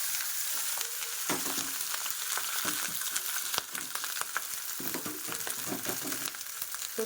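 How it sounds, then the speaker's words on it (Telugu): Cumin rice tossed and fried in a hot pan, with a constant loud sizzle and repeated scraping stirs and toss bursts, close up and with no talking. "సో కింద నుంచి పైకి టాస్ చేసుకోవాలండి ఇలా"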